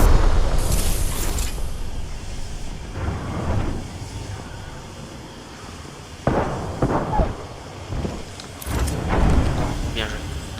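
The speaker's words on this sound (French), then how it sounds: "Attention aux grenades." Booming blasts from grenades in an online shooter game, several heavy bursts spread across the scene, loud and close, with players talking over the action.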